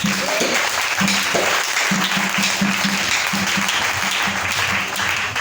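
A church congregation claps together in a sustained burst of applause, dense and even throughout, with faint voices mixed into the crowd.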